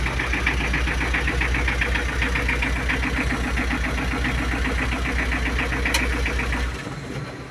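The engine of a used TATA Ace Ex pickup truck idles steadily and loudly up close, a continuous even rumble that drops away near the end, with no voices.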